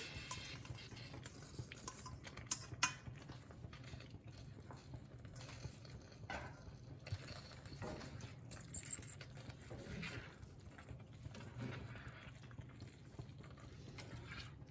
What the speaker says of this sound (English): we're just gonna fold in that cooked ravioli that we set aside earlier